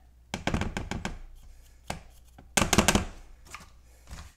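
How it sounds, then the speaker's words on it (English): Egg whites and cornstarch for cloud bread being whisked by hand in a bowl: quick clattery bursts of strokes, a short lull, then another vigorous run, close and moderately loud with no talking. "you're just going to whisk that in until it starts getting really firm and you get some really stiff peaks in your eggs"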